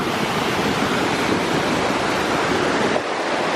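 Powerful mountain stream near Lac d'Arsine above Le Monêtier, its milky meltwater rushing in a steady, dense roar close by, unbroken for the whole stretch with no voices.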